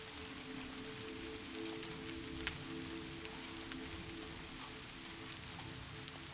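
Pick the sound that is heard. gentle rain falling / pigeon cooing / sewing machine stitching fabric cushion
gentle rain falling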